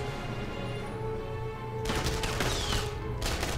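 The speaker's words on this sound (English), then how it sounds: "You guys are way the fuck down there shooting at me." Gunfire in the World War II shooter game Enemy Front, a faint steady ambience that breaks into a louder stretch of rapid crackling shots partway through, with no voices.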